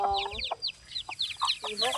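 Chickens cluck and chirp in quick, uneven bursts, close by, with short high calls overlapping in a busy little flurry around a backyard coop.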